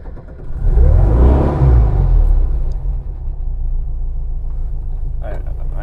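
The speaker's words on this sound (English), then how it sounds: "now you can start the car" A car engine starting and revving: a rumbling start that swells into a loud rev, then settles into a steady idle, with brief talk near the end.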